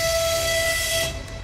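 A long, steady horn blast from a double-headed Matrisa electric train, loud and close, fading out near the end.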